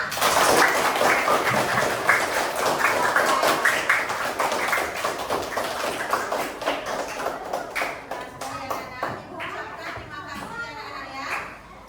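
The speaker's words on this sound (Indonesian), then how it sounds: "Tepuk tangan untuk kita semua" Schoolchildren clapping in a classroom, a loud burst of applause with excited children's voices that thins out into scattered claps and chatter after several seconds.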